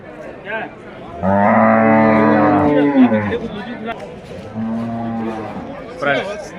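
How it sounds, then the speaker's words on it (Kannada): A Jawari cow at a cattle market in Kalghatgi, Karnataka, moos twice, close by, in long, low, drawn-out calls with a brief pause between them. "ಇದೊಂದು ಜವಾರಿ ಹಸು ತಂದಿದ್ದಾರೆ ನೋಡಿ"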